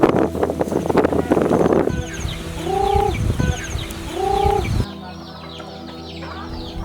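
Farm chickens kept on a small family farm cluck twice, close by, over heavy wind buffeting the microphone, and then the sound drops to a quieter outdoor background.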